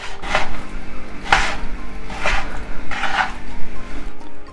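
A knife slicing beef thinly on a cutting board, heard as four distinct, close, crisp cuts spaced about a second apart over a steady background hum.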